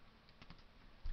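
Computer keyboard typing during a Minecraft session: a quick run of soft, close key clicks ending in a slightly heavier tap, faint and without voices.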